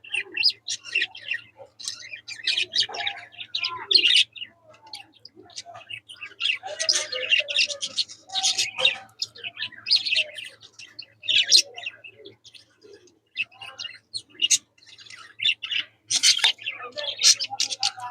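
Budgerigars chirp and chatter in quick, bright bursts, several birds calling close by with short pauses between flurries.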